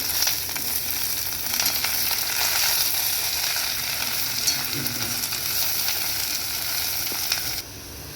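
Snake gourd poriyal mixed with ground paste is stirred in a pan, a loud continuous sizzle with scraping from the stirring, which drops away abruptly just before the end.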